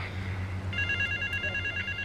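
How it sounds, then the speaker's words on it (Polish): A telephone rings in the video game Grand Theft Auto 3, a bright electronic trilling ring that starts partway through and repeats in quick pulses over a low steady hum. "Znowu telefon."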